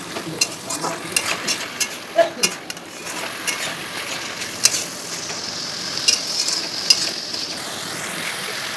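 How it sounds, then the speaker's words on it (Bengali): Chicken curry masala in a hot pan sizzles and crackles while being stirred, with frequent scraping clicks of a spatula against the pan throughout. "মশলাটা ভালো করে কষানোর জন্য আমি একটু অল্প করে গরম জল দেব।"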